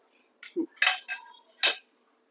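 A knife cuts a red pumpkin into small pieces on a board: about five soft, separate chops and taps, close and quiet, spaced irregularly, with near silence between them.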